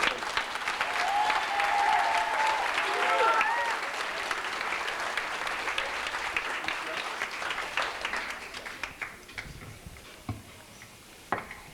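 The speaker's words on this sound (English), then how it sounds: "A round of applause for Nick." Applause from a middle school banquet audience, loud and steady at first, thinning into scattered claps, with a brief whistle-like tone early on.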